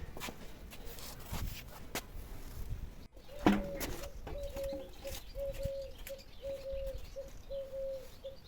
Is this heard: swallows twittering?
yes